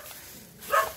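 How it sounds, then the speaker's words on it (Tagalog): A single short dog bark, fairly close, heard near the end of a quiet outdoor moment. "May aso."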